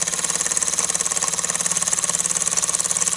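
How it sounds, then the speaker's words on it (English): A 1929 Meccano single-acting oscillating cylinder steam engine running steadily, with a fast, even mechanical chuffing and clatter repeating throughout, close and continuous with no voices. "And you don't expect a single-acting oscillating cylinder engine to be self-starting."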